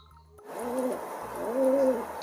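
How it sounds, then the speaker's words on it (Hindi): Pigeon cooing close by, two soft throaty rolling coos in succession over a faint outdoor background. "ये है कबूतर। कबूतर को इंग्लिश में बोलते हैं पिजन।"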